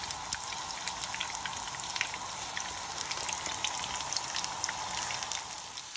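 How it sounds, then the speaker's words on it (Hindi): Stuffed capsicum pakora shallow frying in hot oil in a pan, a steady crackling sizzle with dense popping that stays close and even throughout, with no talking. "फ्राई करेंगे इस तरह से पैन के अंदर गरम तेल में डालकर"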